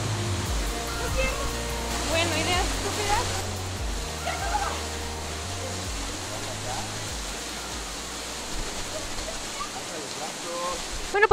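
A waterfall roars steadily with dense rushing water on a trip through the prisms, a continuous close wash of sound while a person talks over it.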